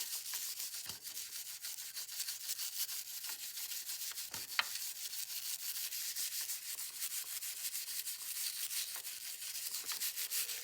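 A brush scrubs the soft brass governor gear of an Edison Home phonograph, making fast, rhythmic, close bristly scratching strokes that continue steadily and quietly, with one brief click partway through and no talking.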